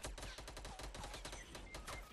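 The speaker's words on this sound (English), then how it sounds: "He's shooting at me from the right." Rapid automatic gunfire crackles in a dense, continuous burst through a shooter video game match, loud and steady for the whole stretch with no talk over it.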